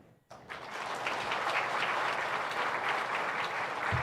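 A church congregation breaks into applause after a short quiet start, the clapping dense and steady, filling a large hall for about four seconds.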